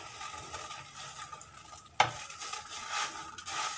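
Dried red chillies rustle and crackle faintly as they are dry roasted and stirred in a pan for curry powder, with one sharp clack of a utensil against the metal.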